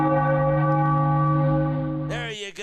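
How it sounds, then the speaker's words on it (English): A large ringing bell at a Phillies baseball game against the Braves, rung after a home run, one loud sustained tone that slowly decays, then cut off near the end by a brief burst of crowd and announcer voices. "Ring the bell for the Fightins."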